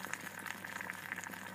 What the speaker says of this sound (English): it certainly does a very good job of boiling the water